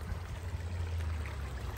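A small brook runs steadily outdoors on a cool morning after a few days of rain, its soft continuous water rush filling the clip with no voices.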